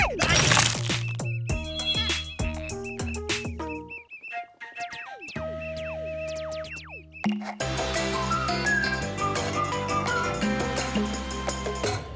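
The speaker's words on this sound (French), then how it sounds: "Ah, mais c'est mon sifflet." Cartoon whistle blown in a French animated episode, a few sharp high tweets rising out of a busy music and sound-effects track, fairly loud with no talk over it.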